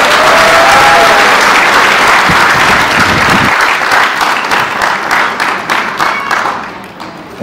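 Applause from wedding guests at a Nepali marriage ceremony, loud, sustained clapping that gradually thins and fades toward the end, with crowd murmur underneath.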